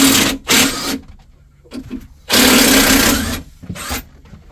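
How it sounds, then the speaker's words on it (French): Impact wrench working on a car's suspension bushings during repairs, loud close bursts of hammering rattle separated by short pauses. "petite clé à choc"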